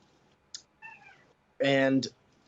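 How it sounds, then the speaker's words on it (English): A house cat meows in the background during an interview call: a short, faint mew first, then one louder, drawn-out meow about half a second long, with no one speaking over it. "Sorry, I got some cats and dogs here."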